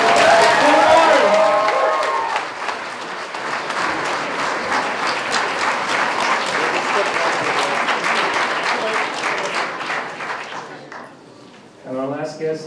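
An audience at a Game of Thrones convention panel in Antwerp breaks into loud applause with some cheering, sustained for several seconds before fading; a voice then begins speaking over a microphone.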